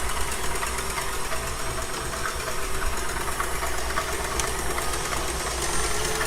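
An electric mixer whips chilled cream in a cold bowl for a citrus summer pie, making a steady, close motor whir that holds at an even level throughout, with no voices.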